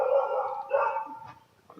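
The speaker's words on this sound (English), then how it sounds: "Not sure what Domino's barking at." A dog gives drawn-out, howling barks nearby, two tonal yowls back to back, then fades to a faint whimper before a short final yip.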